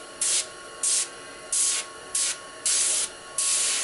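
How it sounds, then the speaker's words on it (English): Paint sprayed onto a miniature in six short hissing bursts, each lasting about half a second, with brief pauses between them. The bursts are close and fairly loud, with a faint steady hum behind. "even if I'm spraying straight down, it's going to find its way into the crevices"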